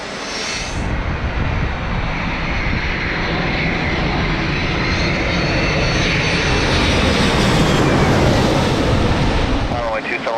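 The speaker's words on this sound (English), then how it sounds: "on short final, we have Delta coming in from Atlanta in a 764" A Delta Boeing 767-400 arriving from Atlanta roars past on short final into San Diego, a loud, broad, continuous jet rumble that swells steadily as the airliner nears and passes overhead.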